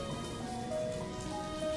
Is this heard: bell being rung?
no